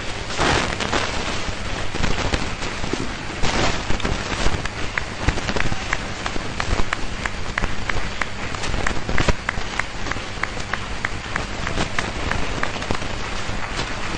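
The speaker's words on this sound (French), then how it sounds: "applaudissez vous-même pour vous-même" A church congregation claps at a Christmas Day service, a dense, continuous wash of applause that holds steady at full strength throughout, with no voices standing out.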